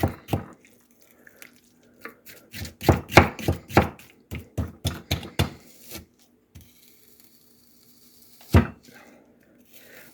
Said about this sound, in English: Okay, I'm going to try to chop this up because if I put it in the microwave, it's going to cook it